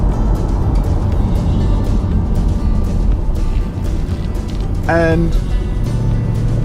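A 2019 Ford Mustang GT Convertible drives through a tight corner on an Australian coastal road trip, its engine a steady low drone under wind and road noise while someone talks over it.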